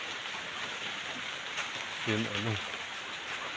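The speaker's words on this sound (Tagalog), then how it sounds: "Sa amin dito parang tag-ulan na talaga, hindi na mapipigilan guys." Steady rain on a wet morning makes a dense, even hiss throughout, with a brief spoken voice partway through.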